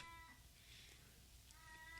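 Domestic cat meowing indoors, a pair of faint, drawn-out tonal cries separated by a quiet pause.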